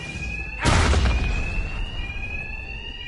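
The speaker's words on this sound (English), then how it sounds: "these thugs can't hear a thing over the alarms" Alarms blare in Batman: Arkham Knight, a steady high-pitched electronic tone sounding throughout, broken by a loud booming impact early on, with rumbling game noise underneath.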